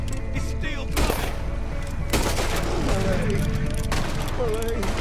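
Gunfire in Red Dead Redemption 2 during a gang shootout, loud sharp shots and bursts spaced across the stretch with reverberant tails, mixed with game sounds and a voice talking over the fighting.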